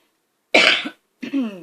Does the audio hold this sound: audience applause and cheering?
no